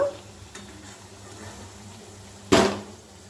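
Vegetable chops deep fry in oil with a faint, continuous background sizzle, then a sudden loud crackling burst that fades over about half a second.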